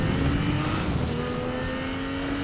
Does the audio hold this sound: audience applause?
no